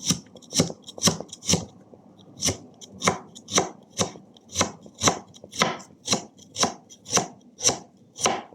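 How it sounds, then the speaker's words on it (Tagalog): A knife chopping onion on a cutting board in a home kitchen, a steady series of about fifteen crisp, evenly spaced cuts, close and clear with no talk. "Maghiwa lang po tayo ng sibuyas."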